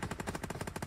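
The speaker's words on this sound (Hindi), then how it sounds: "गन" Rapid automatic gunfire in a video game, a dense, loud burst of evenly spaced shots firing about ten times in under a second, close and alone.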